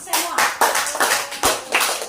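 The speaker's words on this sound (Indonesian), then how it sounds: "Kita tepuk tangan untuk semua." A school audience claps in a short, lively burst of rhythmic hand claps with a few distinct accented beats, close and fairly loud, with voices mixed in.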